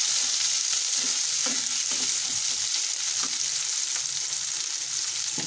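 Tomatoes, green chili and ginger fry with onions in a pan, producing a loud, continuous close sizzle with faint stirring scrapes underneath.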